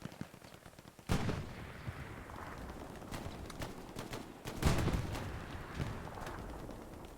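Rockets fire during a match of the Hell Let Loose multiplayer war game. Two heavy blasts, one early and one later, each with a long rumbling tail, stand out over steady distant battlefield noise.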